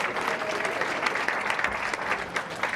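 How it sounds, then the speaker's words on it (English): A room full of people applauds for a guest being welcomed at an award event, steady dense clapping filling the clip at close range without speech. "How about a round of applause for Steve Bjork"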